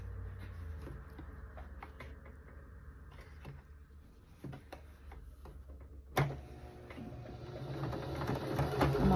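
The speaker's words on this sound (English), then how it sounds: "I'm going to sew all along this edge right here." A sewing machine runs a continuous 1/4 inch quilt seam joining half square triangle pieces, a steady close mechanical whir with light ticking that picks up and grows louder toward the end.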